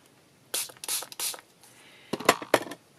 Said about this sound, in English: So if I spray this with water,